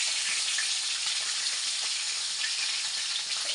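Hasa-hasa fish with soft squash and okra simmering in a pot, giving a steady, close, dense bubbling sizzle that runs evenly throughout with no talk.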